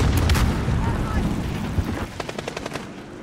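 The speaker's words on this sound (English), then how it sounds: "Stun grenade out!" Gunfire bursts and a stun grenade blast in the video game Warzone, dense rumbling shots early giving way to a quick string of sharp, evenly spaced cracks near the end.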